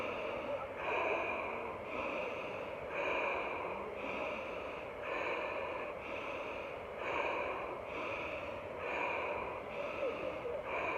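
Repeated deep, forceful breaths drawn in during an energizing breathing exercise, about ten steady even cycles close to the microphone, each a rushing airy intake with no talk.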